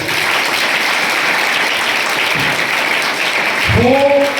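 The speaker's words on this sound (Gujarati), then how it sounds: "એકવાર તાળીથી વધાવી લો." A school audience applauds steadily with dense, even clapping throughout, and a brief voice or tone rises near the end.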